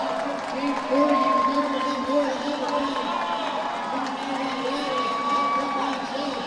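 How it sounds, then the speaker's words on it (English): Spectators in an athletics stadium at the Penn Relays cheer a distance race, a loud sustained roar of whoops and shouts that rises and falls under a commentator's voice. "The crowd's loving it."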